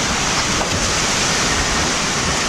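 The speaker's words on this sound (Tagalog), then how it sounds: "Pero yung hangin ang lakas." Strong wind rushes in a loud, unbroken roar, close to the microphone and steady from start to finish.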